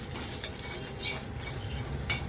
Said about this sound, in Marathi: आता एक छोटी वाटीभर खोबरं घेतलं आहे किसून, ते टाकणार आहोत। तो छान परतून घेणार आहोत